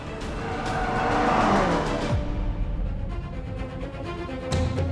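A car takes a left turn on the road, its engine droning steadily with a brief tire squeal partway through, the whole passage loud and close with no talk.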